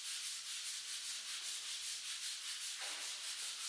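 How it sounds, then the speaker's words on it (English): Sandpaper is rubbed in steady, rhythmic back-and-forth strokes over an artwork on a wall, a close, quiet, hissing scrape repeating evenly with no voices. "the sound of the sanding down of the work"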